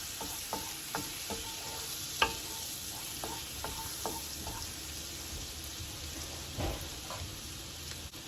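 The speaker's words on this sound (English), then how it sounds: "Now to this, I'm going to add a clove of garlic. I'm going to let this go until it just gets fragrant." A garlic clove frying in a pan over medium-high heat, giving a steady close sizzle with scattered pops and a few stirring clicks throughout.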